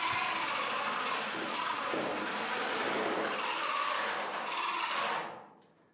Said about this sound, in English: We drilled right through it.